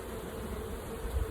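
Honeybees hum steadily around an open hive box, a soft continuous buzz held close throughout with no voices.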